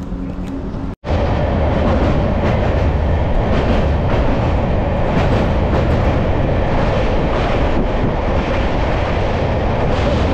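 Kanchanjungha Express LHB passenger train running on rails, a steady loud rumble with rhythmic clatter of wheels on track, heard close from aboard after a brief cut at the start.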